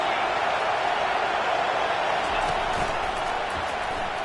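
A football stadium crowd roars loudly and steadily at a game, a dense wall of noise with no pauses, heard alone without commentary.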